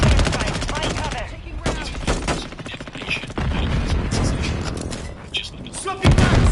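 Bursts of gunfire and explosive impacts from an enemy precision airstrike in the video game Call of Duty: Modern Warfare 3, dense and loud throughout with repeated heavy blasts under game voice callouts.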